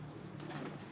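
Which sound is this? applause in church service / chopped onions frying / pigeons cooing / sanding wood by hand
pigeons cooing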